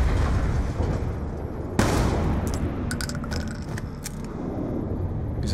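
A single sharp gunshot from a pistol in the Call of Duty: Black Ops 2 campaign rings out loud and close, followed by scattered metallic clinks and a low ambient rumble, with no talking.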